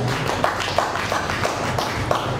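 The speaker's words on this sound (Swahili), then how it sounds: "Tumpigie Lois makofi." Clapping from a church congregation, a steady patter of many hands filling the space throughout, fairly close and loud with no voices over it.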